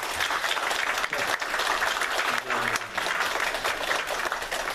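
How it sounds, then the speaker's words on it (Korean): A church congregation at Sunday worship gives a round of encouraging applause, dense and steady for nearly five seconds, with a faint voice briefly underneath. "이 시간에 우리 마음을 모아서 격려의 박수 한번 하도록 하겠습니다"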